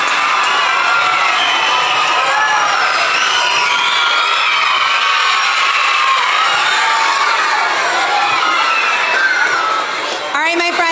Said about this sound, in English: let's hear one more really great round of applause for our March winners